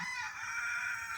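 A rooster crowing in one sustained, raspy cock-a-doodle-doo that fills the short stretch at moderate volume, close by, with no speech.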